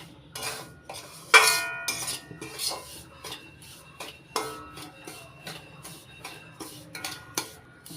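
Semolina being stirred and dry-roasted in a pan for a mango halwa, heard as a run of sharp spoon scrapes and clinks against the metal, irregular and close, with quiet gaps between strokes.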